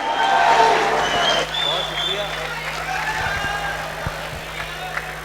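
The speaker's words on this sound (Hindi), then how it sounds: "तालियों का सिलसिला रुकना नहीं चाहिए।" Audience applause for poet Ali Zaryoun at a poetry show, a dense wash of clapping and crowd noise, loudest at first and then settling, with a voice talking over it.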